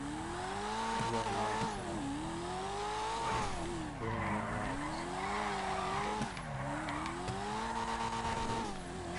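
A car in the video game GTA 5 drifts with continuous engine whine and repeated rising and falling tire squeals over about nine seconds, steady and fairly loud, without talk.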